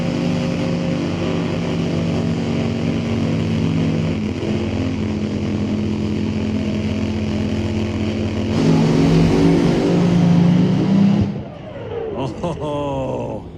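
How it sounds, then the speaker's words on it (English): A supercharged drag race car at Mission Raceway Park: a loud, sustained engine drone with heavy low rumble, holding steady then surging louder before cutting off abruptly, followed by sputtering, popping revs. "Pre-stages the car, build up some RPM"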